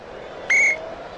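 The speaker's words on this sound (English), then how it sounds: "Whistle." At a 1975–76 NBA basketball game, Golden State at Cleveland, a referee blows one short, clear, steady whistle blast over a faint background murmur.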